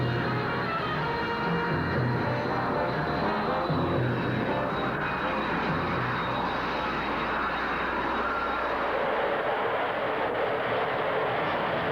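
A Grumman A-6 Intruder jet aircraft flies with a continuous, broad, roaring engine rumble and whine that holds steady and loud for the whole stretch.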